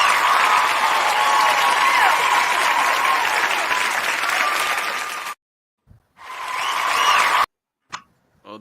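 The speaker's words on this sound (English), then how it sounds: "So let's give the ladies a round of applause." A crowd gives sustained, dense applause for several seconds. It cuts out abruptly, swells back briefly, then stops again.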